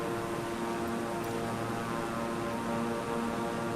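Propeller plane in Microsoft Flight Simulator, a continuous loud droning engine hum with steady airy noise throughout, no talking.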